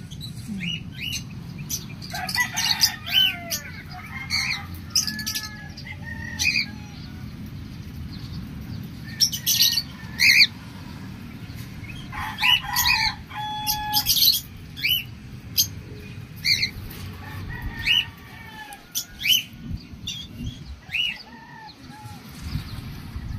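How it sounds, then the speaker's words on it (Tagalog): Clucking chickens and chirping birds call in bursts, some close and loud, over a steady low outdoor hum, with occasional wing flutter. "Habang tinitingnan mo yung mga ibon."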